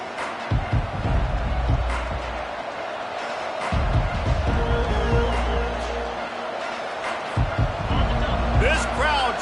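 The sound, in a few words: stadium crowd cheering at a college football game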